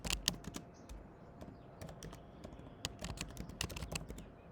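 Computer keyboard keys clicking as code is typed for an Android expense tracker app, a quiet, uneven patter of keystrokes in short bursts with brief pauses, close and alone without talk.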